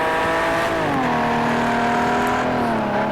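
Camaro and Porsche race cars in a racing video game, set at Sugo, drone loudly with a steady engine tone that drops in pitch as they shift or lift, then holds steady, with no talk.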